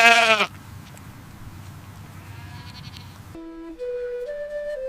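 Sheep bleating in a meadow, a loud close bleat at the start followed by a quiet outdoor backdrop, then a sustained tonal bleat-like call near the end.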